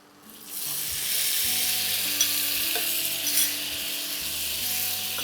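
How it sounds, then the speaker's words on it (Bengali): Spice paste of chili, turmeric, black pepper and cumin stir-fried in oil for Bengali jhal muri, a steady close sizzle with scraping stir strokes running throughout and no talk. "এটা এবার খুব ভালো করে কষতে হবে"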